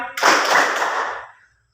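A classroom of students claps hands together in a sharp, crowded burst near the listener that quickly fades to silence, the group's claps not landing in unison.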